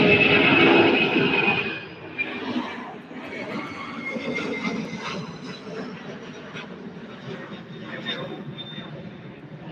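Boeing 767-300 with winglets departing Louisville airport for Atlanta, a loud jet roar at first that fades into a lower steady distant engine rumble, with a faint whine rising and falling near the end.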